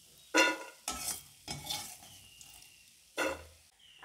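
Popcorn popping in a pan on a stove over lowered heat: a few sharp, separate pops spaced about a second apart over a faint background hiss.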